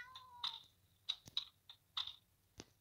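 A cat in the Ice Scream 2 video game gives several short, bright meows in quick succession, faint and fairly close, with small clicks between them.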